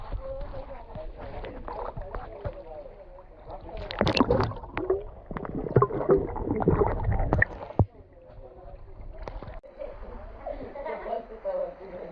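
In a village well during a swimming competition, someone dives in and churns the water, making a loud, dense burst of splashing for several seconds, with voices echoing before and after.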